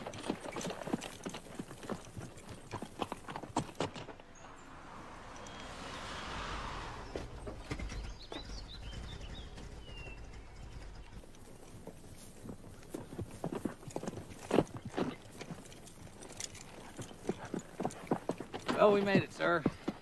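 Horse hooves clip-clop at a walking pace in a Western film, close and uneven, with people talking over parts of it and a quieter stretch in the middle.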